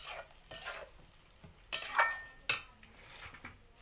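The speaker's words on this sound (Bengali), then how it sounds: "এবার কিছুক্ষণ ধরে ভালোভাবে মশলা কষিয়ে নেব।" A spoon scrapes and stirs spice masala frying in oil in a pan, with irregular metallic scrapes and clinks against the pan over a soft sizzle, close and moderately loud.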